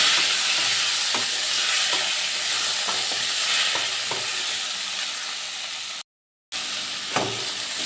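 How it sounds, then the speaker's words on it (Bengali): Boiled jackfruit pieces fry in mustard oil in a kadai, giving a dense hissing sizzle with occasional stirring scrapes and a brief drop to silence partway through; no one speaks. "এঁচড়গুলো দিয়ে আবার আমি ভালো করে একটু ভেজে নেব"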